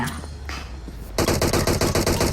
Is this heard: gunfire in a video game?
yes